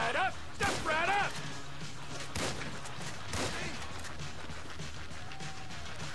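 Pistol gunfire in the video game GTA V, a few sharp shots spaced apart amid game noise, with someone talking over part of it.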